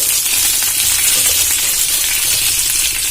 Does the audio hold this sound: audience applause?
no